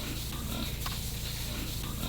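Fattener pigs grunt and snuffle in a farm pen, with low rough grunts repeating over steady barn noise and a loud constant background hum.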